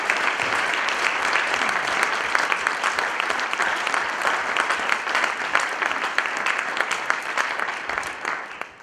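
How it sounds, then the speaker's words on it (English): Audience at a Gilbert Foundation lunch-and-learn gathering claps for itself in a loud, dense, sustained round of applause that holds steady for about nine seconds. "So you guys need to stand up and give yourself a big round of applause"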